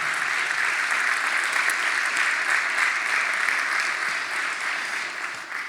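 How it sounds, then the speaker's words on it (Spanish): A church congregation applauds during a sermon, loud continuous clapping filling the room and holding steady before easing slightly at the close. "Le damos un aplauso fuerte a esta"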